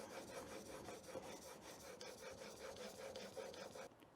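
A steel chisel rubbed back and forth on a bench sharpening stone, giving a faint, close, rhythmic rasping scrape in steady repeated strokes that stops near the end.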